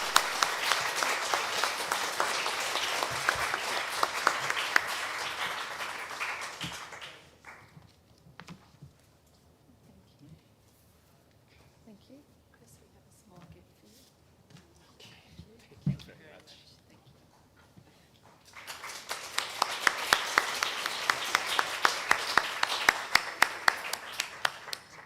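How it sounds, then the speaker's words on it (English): Audience applause at a nursing ethics conference: a loud burst of clapping for several seconds, a quieter stretch with scattered claps and low room noise, then a second strong round of applause near the end. "I think we should give Chris another round of applause"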